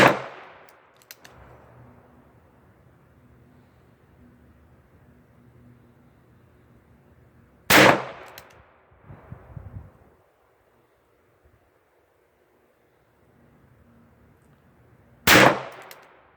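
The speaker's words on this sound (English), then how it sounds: "So I'm going to fire another 5 shots." A .22 LR autoloader fires modified rounds with flattened tips, two loud sharp cracks spaced several seconds apart, each followed by brief handling clatter, with quiet outdoor ambience between them.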